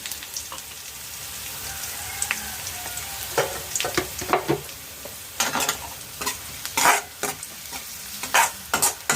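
A spoon works through potatoes frying in a pan with turmeric, giving scrapes and clatters over a steady low sizzle. The stirring comes in irregular, close bursts.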